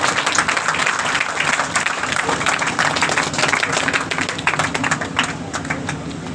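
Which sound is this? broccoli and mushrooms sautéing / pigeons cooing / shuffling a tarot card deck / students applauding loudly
students applauding loudly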